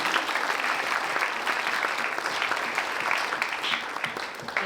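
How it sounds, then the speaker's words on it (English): Sustained audience applause in a chapel assembly hall, dense steady clapping from a large crowd at constant level throughout, with no talk over it. "We're going to give you another round of applause."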